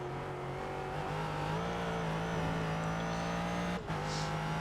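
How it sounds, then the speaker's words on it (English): A race car engine drones steadily in the iRacing sim, a sustained tonal hum with a brief dip near the end as the wheels spin up slightly, no voices present. "A bit loose through there, you can hear the wheels spinning up slightly."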